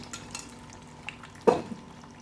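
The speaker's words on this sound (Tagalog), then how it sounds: "Pag mainit na yung ating ah, mantika mga chuki, lagay na natin yung ating itlog." An egg dropped into hot cooking oil for fried rice gives a sudden loud sizzling burst that then settles into a softer crackle, heard alone with no talking.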